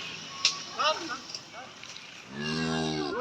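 A young heifer calf moos loudly and close by near the end, a long drawn-out call following brief earlier vocal sounds, on a cattle farm.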